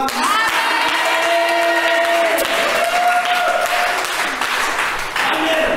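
A church congregation bursts into loud sustained applause with cheering, many hands clapping together while voices and sung or shouted tones ring over it.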